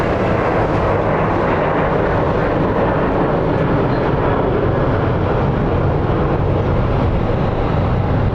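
A fixed-wing aircraft landing at Phoenix Sky Harbor International Airport produces a loud, steady, broad engine roar that fills the entire stretch without pause.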